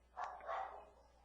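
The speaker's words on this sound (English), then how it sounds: "Those are my dogs." Dogs barking in the background of a phone-in radio show, two faint, muffled barks in quick succession, distant and thin.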